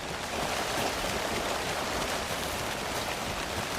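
Rain falls in the video game Alan Wake 2, a steady broadband hiss of drops pattering on surfaces, continuous and even with no voices.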